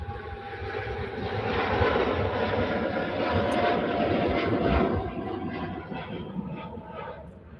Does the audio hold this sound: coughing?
no